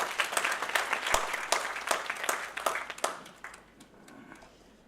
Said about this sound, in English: Can we have a good round of applause, ladies and gentlemen?